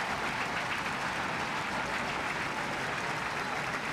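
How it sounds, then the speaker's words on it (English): A college baseball stadium crowd at Duke vs Georgia Tech cheers on the pitcher in the 7th inning, a dense, steady wash of roaring noise from many fans that holds at an even level throughout. "Crowd urging on Patel, trying to preserve this Georgia Tech lead in the 7th."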